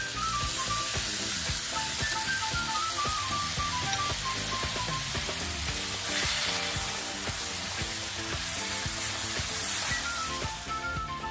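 Boiled pig ears are stir-fried with chili and garlic in a hot pan, producing a loud, continuous close sizzle and crackle with occasional stirring scrapes, while light background music plays throughout.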